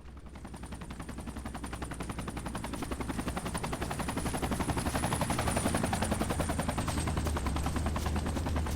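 A helicopter in the Battlefield 2 Project Reality war game drones with a rapid, steady rotor chop that slowly grows louder, accompanied by a high whine and no speech.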